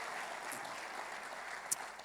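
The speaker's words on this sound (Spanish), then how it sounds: "Fuertes aplausos para Él." Soft congregation applause during a church service, a low, even wash of clapping heard at a distance, with one brief sharper burst near the end.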